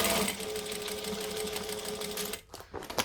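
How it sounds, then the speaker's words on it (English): A sewing machine stitches and backstitches at a 2.5 stitch length, running steadily and close for a couple of seconds before a brief pause and a few stop-start bursts. "I'm going to stitch and back stitch"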